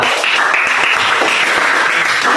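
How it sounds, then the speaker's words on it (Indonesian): A class applauds a group after its presentation during a school coaching session, with loud, dense, continuous clapping from many people close by and no talking. "Tepuk tangan dulu buat kelompok 2."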